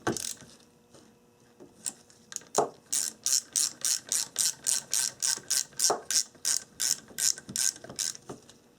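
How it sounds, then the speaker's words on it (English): A 1/4-inch ratchet snugging bolts on the ABS unit of a 1994-1997 Honda Accord, a few scattered clicks, then a rapid, even run of about fifteen crisp ratcheting bursts, close up and alone. "so 1/4 inch ratchet only, don't tighten them much"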